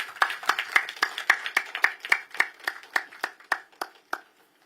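Sparse applause from a small audience at a live book launch event, a run of distinct, separate claps that gradually thin out and stop after a few seconds, fairly close and with no speech.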